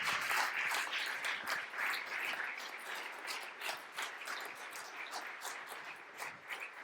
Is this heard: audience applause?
yes